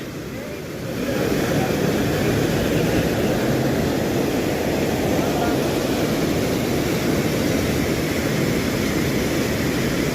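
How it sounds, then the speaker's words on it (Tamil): Loud, constant roar of water released from a dam in Munnar, a dense broadband wash that swells up after a moment and holds steady without a break. "டேம்ல இருந்து தண்ணி நீக்கி விட்டுருக்காங்க. இங்க பாருங்க எப்படி போகுதுன்னு."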